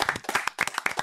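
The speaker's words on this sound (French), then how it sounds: "je pense que ça mérite de chaleureux applaudissements." A studio audience on a French variety show breaks into warm, steady applause, a dense close patter of many hands with no voices over it.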